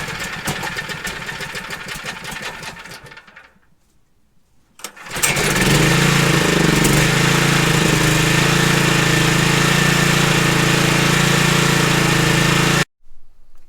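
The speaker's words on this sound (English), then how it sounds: "I pulled on it. It ended up being twice because I didn't cut the choke off quick enough." A small gasoline generator that had sat unused is pull-started: a rough sputtering attempt dies out, then after a second pull the engine catches and runs loudly and steadily up close before cutting off abruptly.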